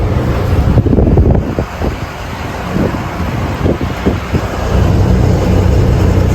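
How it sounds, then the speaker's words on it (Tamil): Wind buffets the microphone steadily while riding a vehicle on a road near Sivakasi in cool evening air, a broad continuous rushing roar with gusty swells and no talk. "இப்போ தான் கொஞ்சம் கூலிங் காற்று வரும்போது தான் நல்லா இருக்குது இப்படி வண்டி ஓட்டது"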